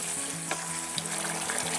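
Chicken with vinegar and tomato sauce frying in a pan while being stirred, a steady close sizzle with a few soft scraping strokes of the spoon.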